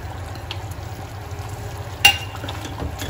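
Fried paneer cubes and grated paneer being stirred into a curry in a pan give a soft, continuous low sizzle and scraping, with one sharp clink of a utensil against the pan near the middle.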